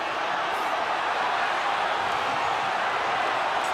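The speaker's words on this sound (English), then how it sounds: "Crowd screaming." A rugby crowd screams through the Auckland v Canterbury 2018 Premiership Final, a dense, steady roar of many voices that holds at a loud, even level without a break.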